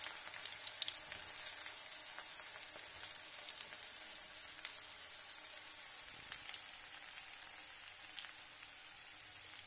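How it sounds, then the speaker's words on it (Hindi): Onions frying in hot oil with fenugreek seeds and cumin, giving a steady, fine, close sizzle with light crackle that runs evenly throughout, with no talking. "इसमें हम प्याज डालेंगे।"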